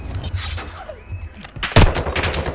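Bursts of rapid gunfire in Call of Duty: Modern Warfare 3 crack over a steady rumble of game noise, with one louder burst near the end.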